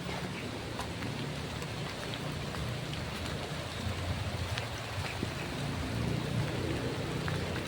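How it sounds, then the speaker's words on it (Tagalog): Heavy rain pours down steadily outdoors near a house, a dense continuous hiss of drops striking surfaces with no breaks, fairly loud and close, without voices. "Lakas ng ulan po dito mga kabisnes."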